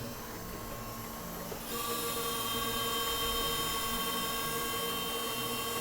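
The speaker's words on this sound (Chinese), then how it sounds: "我们现在来进行1分钟的全油门的流量测试" Fuel distributor from a 1990s-era Mercedes W460 230GE on a test bench during a one-minute full-throttle flow test, a steady electric pump whine that steps up louder after a couple of seconds and then holds, with no talk.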